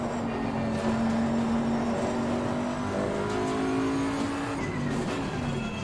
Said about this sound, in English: And the cross-plane crank rather than the flat-plane crank of the Lamborghini it's kind of nicer on the ears.